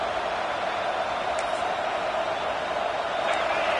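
A dense, steady roar of a large stadium crowd at a football game, constant and loud throughout, with a faint whistle rising briefly above the din.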